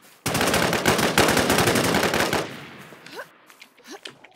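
Rifle fire in the video game NewZ, a sustained rapid burst of loud gunshots for about two seconds, followed by quieter scattered shots and faint noises fading out.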